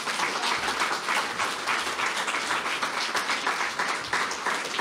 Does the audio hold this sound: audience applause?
yes